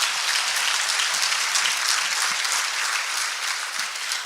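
Audience applause at a State of Industry panel event held by the Texas City-La Marque Chamber, a thick, even wash of many hands clapping at a steady level throughout, no voices above it.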